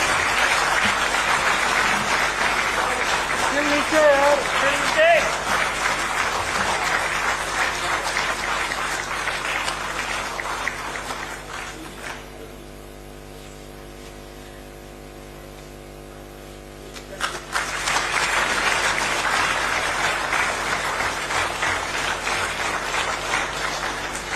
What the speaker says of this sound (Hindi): कृपया तालियों की गड़गड़ाहट से इस विशेष अवसर का अभिवादन करें।